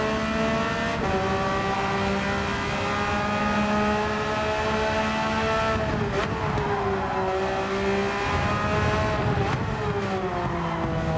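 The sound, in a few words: Porsche race car driving in a racing video game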